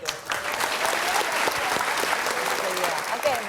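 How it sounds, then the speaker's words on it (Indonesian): Applause from an audience of students at a motivational talk-show taping, steady and dense for the whole stretch with faint voices talking underneath. "kasih tepuk tangan"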